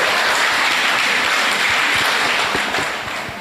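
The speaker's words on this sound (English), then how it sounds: "Can we all give him a round of applause?" A crowd applauds a committed supporter at a Red Cross summer camp in Kombo Central District, West Coast, steady dense clapping that holds for several seconds and then eases off slightly at the end.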